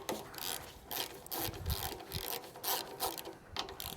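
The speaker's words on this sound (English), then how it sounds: "I'm going to work on taking the carburetor apart right now" Hand tools at work taking apart the carburetor of old, seldom-used power equipment fouled by stale gas, with a rapid ratcheting and scraping clicks in uneven bursts, close and fairly quiet, no talking.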